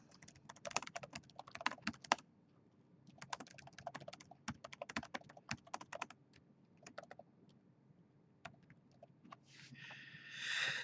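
Computer keyboard typing in quick bursts of crisp clicks, near and clear, with pauses between runs and a soft rustle at the end, no talking.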